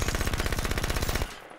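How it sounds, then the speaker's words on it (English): An SMG in the video game Halo 5 fires one rapid, steady automatic burst of about a second, loud and close, then cuts off. "Here's the SMG,"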